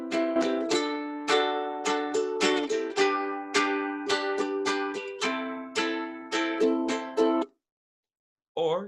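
Ukulele strummed in a down, down, down, up, down, up pattern, bright chords struck in a steady repeating rhythm for about seven seconds, close and clear, then stopping before a brief voice at the end.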